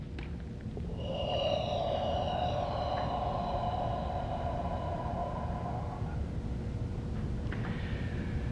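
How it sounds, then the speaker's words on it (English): A long, deep inhalation, drawn-out breathing lasting several seconds, fairly close over a low background rumble, with a softer breath following; no talk. "Take a deep breath, gather."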